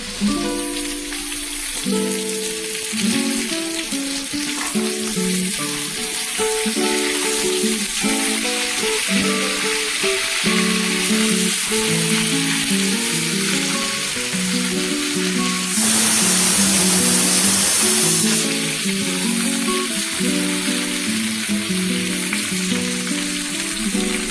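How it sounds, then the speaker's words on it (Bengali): Okra added to fried shrimp sizzles steadily in a pan, a loud continuous frying hiss with a brighter burst partway through and music playing over it, with no talk. "ঢেঁড়স দেওয়া হলো চিংড়ি মাছ ভাজার মধ্যে।"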